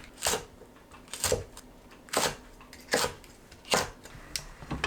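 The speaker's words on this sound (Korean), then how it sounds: "파, 청양고추를 어슷 썰어주세요." A kitchen knife cuts green onion and cheongyang chili diagonally on a cutting board: six evenly spaced, crisp chopping knocks about a second apart, close and clear with no voices.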